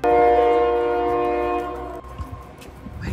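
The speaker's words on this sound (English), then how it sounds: "The train! We're missing it!" A train in the Alaskan backcountry sounds a loud, sustained multi-tone horn up close. The horn cuts off after about two seconds, leaving rumbling rail noise and scattered knocks.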